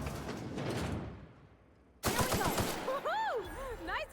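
Rifle fire in The Outer Worlds video game comes as a brief burst of shots mixed with clanking game effects. Sweeping electronic tones follow, and a voice is heard partway through.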